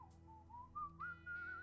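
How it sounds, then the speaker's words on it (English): A single person whistles a deep, breathy tune with a slightly toothy tone, one sustained line sliding gradually upward in pitch, quiet and close with no speech. "It's also like a deeper sounding whistle because he's just bigger."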